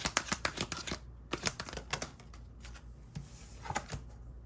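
Tarot cards are shuffled hard in quick riffling bursts, a rapid clatter that pauses briefly and resumes, close and fairly quiet.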